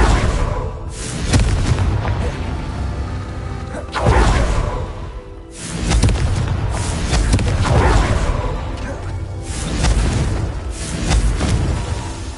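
In Hogwarts Legacy, a Confringo blasting spell sets off a run of heavy booming explosions with whooshing bursts that come in waves over several seconds, loud and close.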